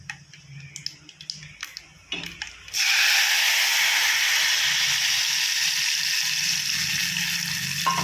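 Tamarind extract for tamarind rice is poured into a hot pan after a few light clinks and taps, setting off a sudden loud, steady sizzle that keeps hissing evenly to the end.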